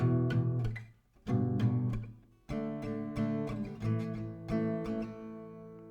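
Close acoustic guitar repeating a D-to-A strumming pattern for two rounds, with brisk strokes in steady groups and a brief gap between them, played alone.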